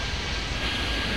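An airplane takes off in a flight simulator video game, its engine a steady broadband roar with no break and no voices over it.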